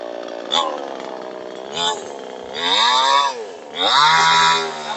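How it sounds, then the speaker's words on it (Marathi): A cordless battery chainsaw cuts through a tree branch in an orchard, its motor whining loudly and close, rising in pitch and strain in repeated surges as the chain bites into the wood. "झाडाची फांदी आहे ती आपण कापून दाखवणार आहे आणि मशीन कसं चालतंय तुम्ही लाईव्ह बघा"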